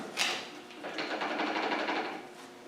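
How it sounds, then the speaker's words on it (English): The drive shaft of an R380 gearbox rattles and chatters as it is turned by hand. Quiet, rapid ticking clatter runs in uneven bursts close by. "when we were turning this, it did make an awful lot of rattly noise"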